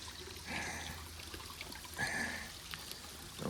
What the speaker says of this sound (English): Here's the little stream that's happening.